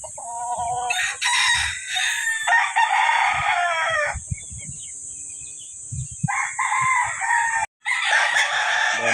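Several roosters crow loudly in Anda, Philippines, their calls overlapping and following one another in quick succession, with a few clucks in between and no speech.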